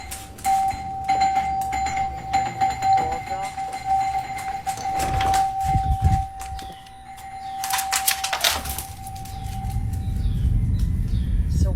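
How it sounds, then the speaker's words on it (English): A doorbell rings several times at a home, with a sustained chime tone carrying through the first half over background rustling and thumps, then fading as low rumbling noise takes over. "the doorbell rang multiple times without anyone being there"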